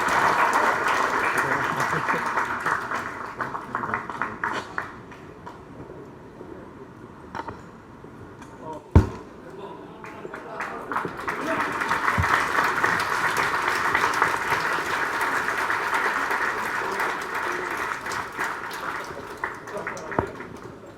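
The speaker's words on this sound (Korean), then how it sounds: "오늘 열띤 강연을 해주신 안철수 의원님께 다시 한번 큰 박수 부탁드립니다" A seated audience applauds steadily for about twenty seconds after a lecture and Q&A by politician Ahn Cheol-soo. The dense clapping rises and falls in waves, with a loud knock partway through and occasional voices underneath.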